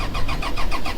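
A motor that had refused to start finally catches and runs, giving a brief, close burst of rapid rhythmic chugging pulses with no talking.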